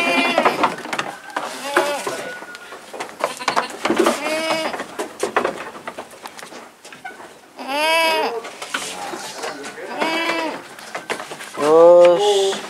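PE Kaligesing goats on a farm bleat again and again, loud and close, with several bursts overlapping among scattered knocks and bits of speech.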